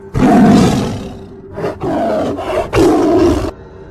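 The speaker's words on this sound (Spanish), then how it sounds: "un rugido ensordecedor sacude los huesos de los hombres" Siberian tiger roaring, three loud close roars in quick succession with short gaps, alone with no talk.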